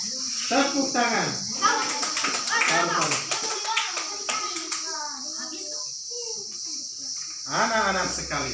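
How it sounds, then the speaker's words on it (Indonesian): Children in an Indonesian classroom clap their hands in scattered bursts while young voices chatter and call out over them, a steady high-pitched hum running throughout. "Tepuk tangan."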